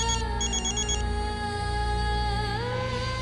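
A phone ringtone for an incoming call plays loud and close, a steady electronic melody with bright repeating tones and no pause or talk over it.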